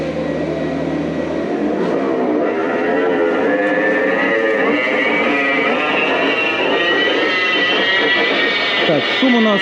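Electric drive motor of an Audi Q8 e-tron with 150,862 km and a fault noise, a thin whine climbing steadily in pitch over a constant loud roar of road and cabin noise while driving.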